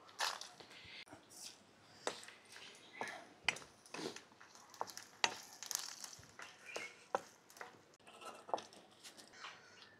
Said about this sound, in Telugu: ఎండుమిరపకాయలు, జీలకర్ర వేపుకుందామండి